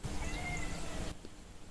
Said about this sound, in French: Vous avez jamais un chat qui vous répond.